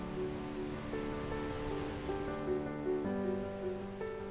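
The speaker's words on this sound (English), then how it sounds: "listening to the sound of falling water on the rocks below" Continuous rushing water pours steadily onto rocks below, a dense even roar like a waterfall heard from nearby, with no voices; a waterfall in Northern Thailand.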